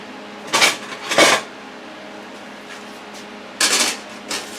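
Kitchen utensils clatter and clank as someone rummages for a spatula. There are four short, sharp bursts of metal and dish noise, two close together at the start and two later, with quiet in between.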